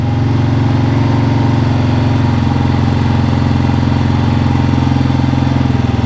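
A Toro mower or Polaris ATV engine idles steadily after a cold start following a long winter, a loud, close, even running hum with no talk over it.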